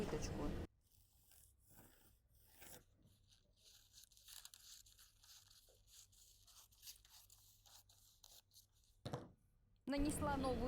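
Pencil scratching a line across a paper dress pattern, then scissors cutting through the paper, faint and close in a quiet room, with soft rustles and short pauses between strokes.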